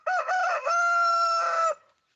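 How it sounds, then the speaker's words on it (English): A cockerel crows close by in one loud, drawn-out call lasting under two seconds, stuttering at the start and then holding a long strained note before cutting off into silence. "hey, why are you making noise closer to me, you cockerel?"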